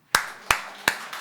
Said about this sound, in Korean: 지금 멀리서 전철 타고 온 우리 강희를 위해서 박수